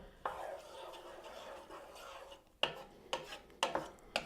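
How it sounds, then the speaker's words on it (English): A utensil stirs sofrito in a pot with soft scraping and rubbing at first. A few sharper knocks against the pot's side follow, close by and fairly quiet, with no talk. "You stir that all up."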